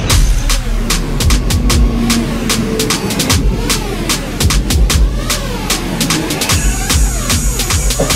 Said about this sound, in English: That is the train that I'm waiting.